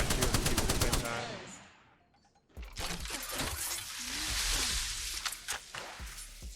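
Gunfire in Apex Legends: a rapid burst of automatic shots, then a brief lull, then more scattered shots and impacts mixed with game effects at close range.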